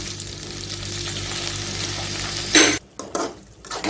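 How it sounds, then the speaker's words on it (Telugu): Tomatoes and green chilies sizzle and fry steadily in a pan for a homemade tomato peanut chutney, a continuous crackle broken near the end by a bright stir and a few scraping clatters of a utensil against the pan. "టమాటాలు కూడా వేసుకొని ఈ విధంగా ఒకసారి కలుపుకొని మెత్తగా టమాటా పచ్చిమిర్చి ఉడికేంత వరకు ఈ"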